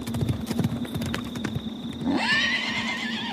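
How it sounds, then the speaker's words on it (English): A nearby horse whinnies loudly over a background of clip-clopping hooves, part of an audio drama effect, with no talking. "I hear a horse."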